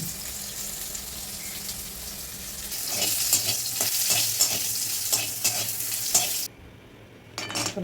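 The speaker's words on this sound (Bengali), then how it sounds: "সব কটা সবজি এভাবে করে ভেজে নিচ্ছি।" Vegetables for Bengali sukto frying in a pan, a steady close sizzle that swells louder with bursts of stirring scrapes, then drops away briefly before resuming near the end.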